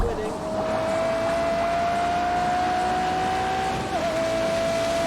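A Ferrari LaFerrari engine exhaust in The Grand Tour Game video game, a loud, sustained high-revving drone that holds a steady pitch and briefly wavers near the end, with a voice speaking over it.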